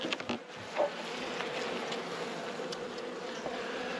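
Honeybees in an open hive during a late-season inspection, with the queen excluder being removed, give a steady close buzzing hum that holds evenly throughout, with a faint brief knock near the start.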